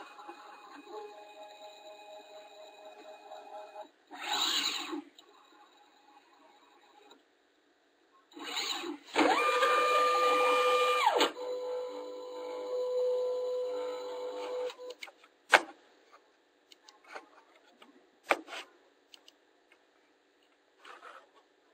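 An EZA series linear actuator runs through its motion cycle at full force, giving short whirring motor strokes separated by pauses, then a longer steady hum, ending in faint clicks, close and fairly quiet.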